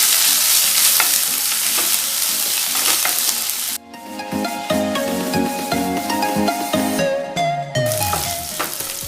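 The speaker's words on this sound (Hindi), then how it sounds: "अदरक और मिर्च को हम 1 मिनट तक अच्छे से भून लेंगे" Chopped green chilies and grated ginger with cumin fry in a pan, a loud, dense sizzle with stirring for the first few seconds, then a quieter sizzle beneath melodic background music.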